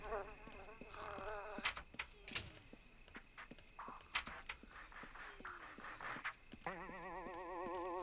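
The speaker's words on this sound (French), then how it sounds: "Il y a des mouches partout, c'est le bordel." Flies buzz in The Sims video game, wavering drones that come and go over about eight seconds, mixed with clicks, blips and other game sounds, faint and fairly close, no talk.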